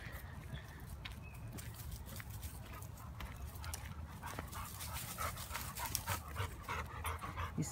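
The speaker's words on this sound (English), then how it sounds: "He's still panting" A dog pants rapidly and steadily at a park after excitement, close and fairly quiet, with faint background noise and occasional small sounds, no talk over it.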